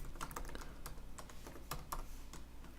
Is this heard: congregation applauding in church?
no